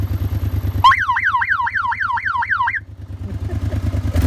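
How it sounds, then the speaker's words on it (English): A car alarm wired into an ATV's reverse override switch wails loudly in a rapid rising-and-falling siren for about two seconds over the ATV's idling engine rumble, on a mountain trail. "That's a car alarm I wired into my reverse override switch to scare the bears away or let them know I'm around."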